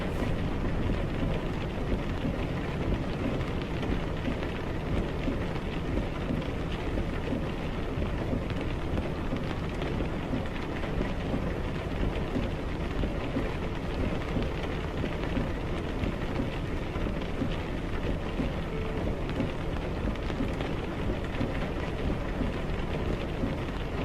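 Rain falls steadily during a long-distance car drive, making a dense, even hiss that continues unbroken throughout with no one speaking.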